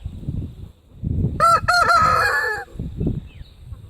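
A rooster from a homestead chicken flock crows once loudly and close, a full cock-a-doodle-doo over a second long, with softer clucking and shuffling before and after.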